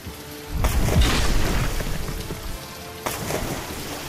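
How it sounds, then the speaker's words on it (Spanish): Heavy rain pours down while deep thunder booms roll in twice, loud and close, with no voices. "¡Nos dirigimos directamente hacia esa tormenta!"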